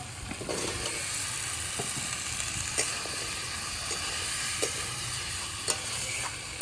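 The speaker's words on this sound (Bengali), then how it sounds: "এই অবস্থায় কেটে রাখা আলুগুলো দিয়ে দেবো" Cut potatoes frying in a wok, a loud, steady sizzle and hiss throughout, broken by a few sharp ticks of a spatula against the pan, with no voices.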